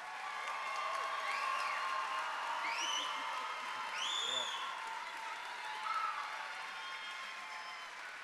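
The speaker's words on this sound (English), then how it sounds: "Let's give all of our graduates a round of applause." A crowd at a university fall commencement applauds the undergraduates in a steady, fairly distant roar of clapping, with whoops and cheers rising above it.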